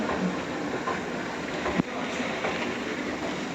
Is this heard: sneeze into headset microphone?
no